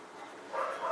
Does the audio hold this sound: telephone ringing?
no